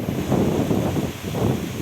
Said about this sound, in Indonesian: Angin, ini angin datang kasih kabar teman-teman, kasih kabar bahwa tidak bisa mancing.